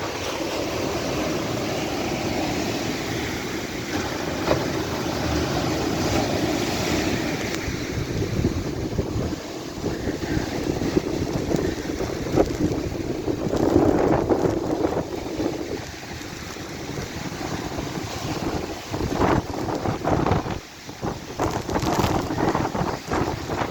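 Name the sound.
strong typhoon wind and growing sea waves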